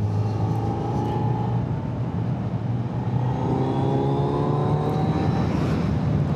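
A 2025 Kawasaki Z900 motorcycle engine hums steadily while riding in fifth gear, a constant rumbling drone with faint pitch shifts and wind noise, loud and continuous without talk.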